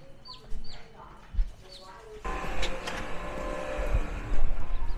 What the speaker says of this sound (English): We have our two chicks in the bucket.